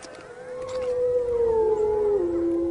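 A wolf howls in winter in Yellowstone: one long, loud, clear note that slowly slides downward, with fainter howls in the background.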